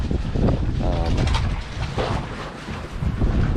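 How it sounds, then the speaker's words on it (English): Strong wind gusts buffet a boat moored against a quay, a steady, rushing roar that swells and eases close to the microphone, with a voice briefly heard over it. "woke up with quite a gust blowing on the back of us here"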